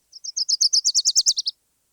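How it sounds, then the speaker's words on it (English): Wilson's warbler song: a single rapid burst of about a dozen high chirped notes on two pitches, the later notes lower than the first, clear and close against silence. "Or Wilson's warblers. It's just a burst of notes on two pitches, second lower than the first."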